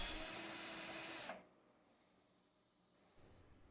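A power drill at high speed bores a pilot hole into a wall for a handrail bracket, a loud whine for just over a second before it stops abruptly, leaving quiet room tone.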